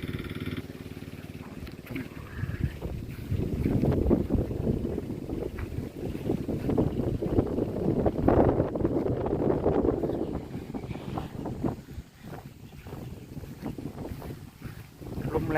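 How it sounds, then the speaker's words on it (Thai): Strong wind gusting outdoors around a house roof in Surin, Thailand, a loud rumbling buffeting that swells and eases across the whole stretch, close to the microphone. "ลมแรงครับวันนี้พี่น้องเลย"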